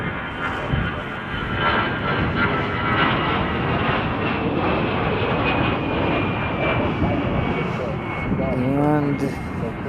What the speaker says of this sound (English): that 757 that we just saw take off was United Flight 247 off to Denver